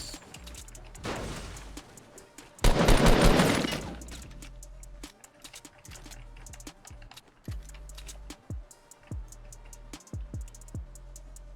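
Gunfire in Fortnite Battle Royale: a dense burst of rapid shots, then a heavier sustained volley of about a second, followed by scattered single cracks and short bursts, fairly quiet overall and with no talk.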